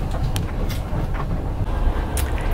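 A Russian Railways passenger train rumbles along, heard from inside a sleeper compartment as a steady low roar with faint rhythmic clicks of the wheels over rail joints.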